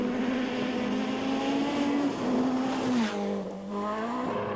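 A Group B rally car engine screams at high revs nearby on a rally stage in Finland, pitch rising and dipping as it shifts and races past, loud and continuous.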